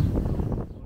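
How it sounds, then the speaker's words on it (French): Brief gusts of wind buffet the microphone with a low, rumbling roar that fades out. "Il y a beaucoup de vent aujourd'hui."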